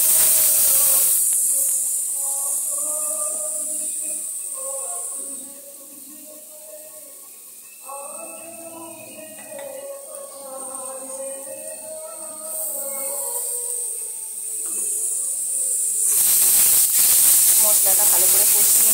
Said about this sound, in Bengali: মশলাটা ভালো করে কষিয়ে নিলাম